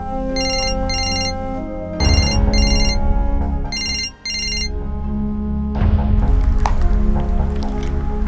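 A telephone rings in a Pakistani drama scene with a loud electronic ringtone in repeated pairs of bright bursts. A rustling, shuffling background runs underneath, and the ringing stops partway through.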